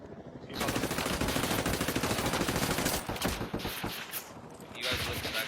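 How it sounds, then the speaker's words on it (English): Sustained automatic gunfire from a video game rattles for several seconds in a dense, fast burst, then pauses and resumes, with a faint voice now and then underneath. "You guys look at that guy shooting me."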